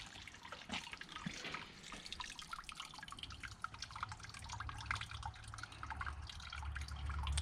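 Water drains from a pot of boiled seafood at a low country boil, a steady faint trickle and dripping over a low background rumble. No voices are heard.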